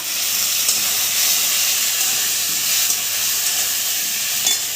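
Potato, onion and tomato frying with ginger garlic paste in a pan, giving a steady, loud, dense sizzle and hiss that carries on without a break, with no talking.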